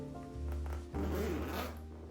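A toiletry bag's zipper pulled shut in one continuous close rasping run lasting about two seconds, heard alone at fairly low level.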